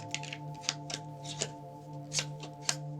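A Cigano (gypsy) fortune-telling card deck is shuffled by hand close up, giving a series of sharp riffling snaps at irregular intervals over a steady low background hum.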